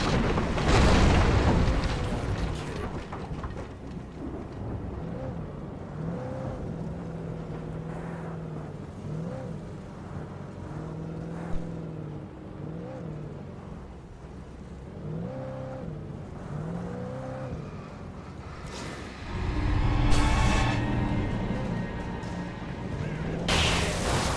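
Car driving in Alan Wake Remastered on PS5, a steady engine drone with rising and falling revs as it swerves and turns, loud and continuous, with a harsher surge near the end.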